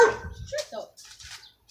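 A big dog barks a few quick times, close and loud, under excited shouting from people nearby.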